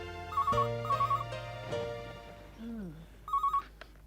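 A telephone rings with repeated electronic trilling bursts, separated by pauses and then resuming, over a low musical background in a Hindi TV drama scene; nobody speaks over the rings.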